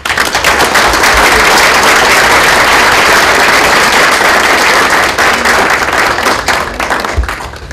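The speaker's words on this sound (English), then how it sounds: "So they deserve a round of applause." Loud, sustained applause from an audience at a board meeting, a dense steady wash of clapping for several seconds that thins slightly toward the end.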